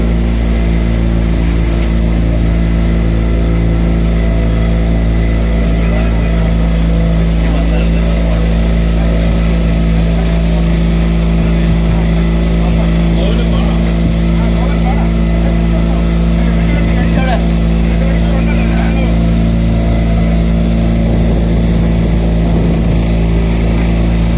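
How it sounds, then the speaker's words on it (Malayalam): A motorboat engine drones loudly and steadily throughout along the shore of Munroe Island, Kollam, a constant low hum with faint voices underneath. "അങ്ങനെയുള്ള ബോട്ട് യാത്ര"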